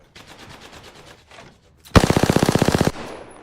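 A video game shooter's automatic gunfire: a loud, rapid burst of about a dozen shots follows a quieter run of distant shots, with no talk over it.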